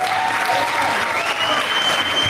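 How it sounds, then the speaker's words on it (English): Audience applause at a slam jam final event, a steady dense wash of many hands clapping that fills the whole stretch at even loudness, with no voices over it. "please give them a round of applause"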